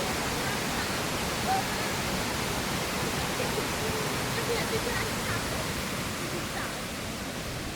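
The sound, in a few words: cascading waterfall in a gorge on a campus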